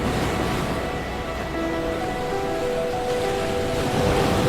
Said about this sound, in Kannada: ಅಲೆಗಳು ಒಂದೊಂದಾಗಿ ನಮ್ಮ ಕಾಲು ಮುಟ್ಟಾಗ